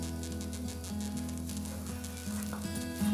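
A garlic egg paratha sizzles in oil on a pan, a close, steady crackling hiss over a low humming background, with a slight rise at the very end and no one talking.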